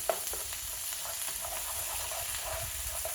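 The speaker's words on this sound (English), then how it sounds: "now while that's still cooking my chorizo here" Chorizo, a fatty sausage, frying in a pan for paella gives a steady close sizzle and crackle, with a light tap at the start and soft stirring scrapes through it.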